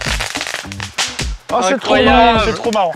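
A small crackling ball firework goes off outdoors, its sharp crackles and pops mixed in with excited voices laughing and talking over it at close range.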